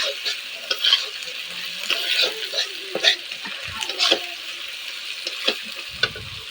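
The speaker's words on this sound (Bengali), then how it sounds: "পেঁয়াজ ভাজা ভাজা হয়ে এসছে" Onions frying in a pan while being stirred, a soft steady sizzle broken by repeated scraping and clinking strokes of the spatula, close up, with a little water or tap noise in the background.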